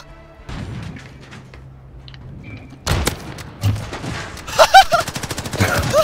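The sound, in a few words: gunshots in Call of Duty video game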